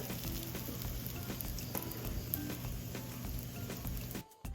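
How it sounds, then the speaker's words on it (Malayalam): French toast fries in ghee over a low flame, giving a steady, close, crackling sizzle that runs throughout and dips briefly near the end. "അതിനുശേഷം നെയ്ക്കകത്ത് വെച്ച് കൊടുക്കുക ലോ ഫ്ലെയിമിൽ വേണം ഇത് ചെയ്യാൻ"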